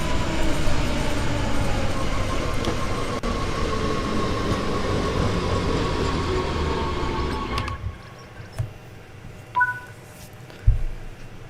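A train in Train Sim World 3 makes an emergency stop: a loud, steady rolling rumble with a faint squeal runs for about eight seconds, then drops away to near quiet, leaving a few scattered clunks and beeps.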